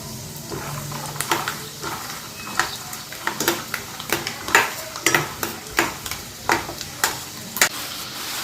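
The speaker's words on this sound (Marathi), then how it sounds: "तेल तापले की पहिल्यांदा आपण शेंगदाणे त्याच्यामध्ये तळून घेऊया" Peanuts fry in hot oil in a home kitchen while a crunchy puffed-rice snack is being made, giving a steady sizzle under repeated sharp clicks and stirring clatters from the pan.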